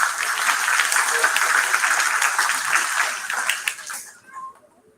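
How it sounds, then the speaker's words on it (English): A crowd at a fifth grade graduation ceremony gives a round of applause, full dense clapping that holds steady and then fades away over the final second. "So we could give him a round of applause, please."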